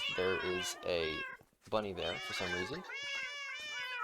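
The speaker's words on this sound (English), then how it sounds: "You can probably hear all the cats meowing." Several cats meowing in the Minecraft video game, their repeated cries rising and falling close by, with a voice talking over part of it.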